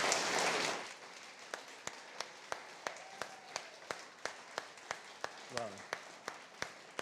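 A church congregation applauding at a Sunday service, a brief burst of dense clapping that quickly thins to a steady, rhythmic single clap repeating about twice a second, with a short spoken exclamation partway through.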